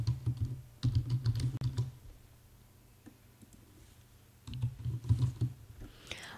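Rapid typing on a computer keyboard, close and steady, in two bursts of clicking keystrokes separated by a quieter pause.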